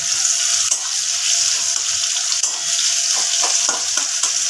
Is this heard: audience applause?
no